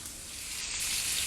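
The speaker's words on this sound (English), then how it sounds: "My steak is frying." Five or six pieces of breaded steak sizzle in a hot pan with a steady, close, hissing frying noise that swells slightly, alone and without talking.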